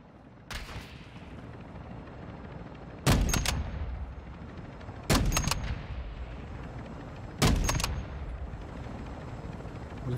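Sniper rifle shots in a video game: three loud, sharp cracks spaced a couple of seconds apart, each trailing into a rumbling echo over a quiet ambient background.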